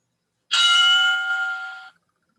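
A workout interval timer bell rings once, a bright metallic tone with clear overtones sustaining about a second and a half before cutting off, alone in silence.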